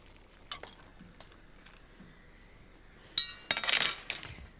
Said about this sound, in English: So in goes my fusiglione. A bit of a stir.